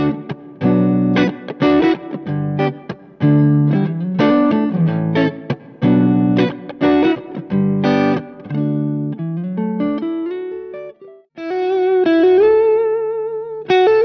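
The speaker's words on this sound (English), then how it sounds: "It just adds a subtle amount of smooth and fat overdrive to your clean tone" An electric guitar played with mild overdrive, a run of chords and single notes, then a sustained bending note ringing out at the end.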